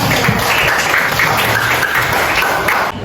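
A teacher's class applauds its student project groups, a loud, steady wash of clapping close to the mic that holds evenly throughout and dips slightly at the end.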